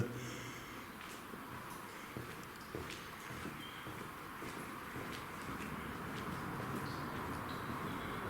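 A person runs through a disused railway tunnel on a trail, footsteps pounding in rapid rhythm amid a hissing, echoing rumble that resembles a chugging steam train, steady and moderately distant throughout.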